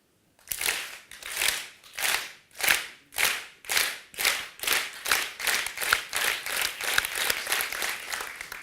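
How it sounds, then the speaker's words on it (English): A group of people clapping together in a workshop room, a steady run of loud, rhythmic claps roughly twice per second that grows denser and more continuous as it goes on, with no talking over it. "start clapping"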